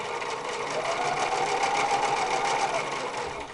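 Viking 630 sewing machine running a straight stitch, a smooth, quiet, rapid mechanical whir with a fast regular needle rhythm, close up and steady, easing off at the end.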